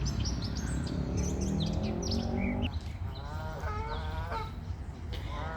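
Birds call on a bright late spring day near water where moorhens live. A run of harmonic, honking calls gives way to scattered higher chirps and tweets, with no one talking.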